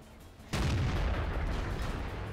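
A tank cannon fires in the video game World of Tanks, a single heavy boom with a sharp onset followed by a long rumbling decay under steady background noise.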